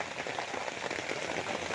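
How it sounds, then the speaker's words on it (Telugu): Heavy rain pouring at Undavalli Centre in Tadepalli, Guntur district, a dense, steady hiss of drops drumming on surfaces and a tarpaulin close by, continuous and loud. "వర్షం వస్తుంది కదండి, పట్ట కప్పేసాయండి. ఫుల్గా వస్తుంది వాన."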